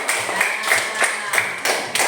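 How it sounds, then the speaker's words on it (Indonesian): Classroom of students clapping hands in rhythmic unison, a steady series of sharp claps roughly every third of a second, close and alone without talk. "Tepuk tangan"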